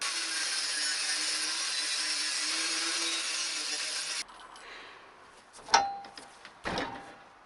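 A power tool cuts through the old steel sill of a Jaguar XJ X300 during restoration, a loud, steady grinding whine for about four seconds that stops abruptly, followed by a few scattered metallic knocks and handling sounds.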